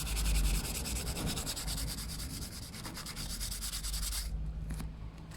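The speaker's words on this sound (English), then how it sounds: "What I'm hoping for is that it smooths it down enough so that my compound can clean it a bit." Rubbing compound worked by hand over the paint of a Yamaha Thundercat 600cc motorcycle, a close, steady scrubbing rasp in quick back-and-forth strokes that stops near the end.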